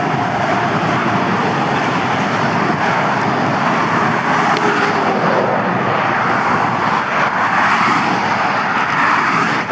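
Steady, dense road traffic on a busy three-lane road, with cars passing continuously at close range as a loud, unbroken rushing roar; no talking.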